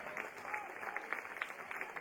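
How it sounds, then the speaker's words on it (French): Applause from a crowd for the Paris FC youth team during the team parade at the Mondial Pupilles 2024 tournament, scattered clapping heard under a voice. "ici, on les applaudit"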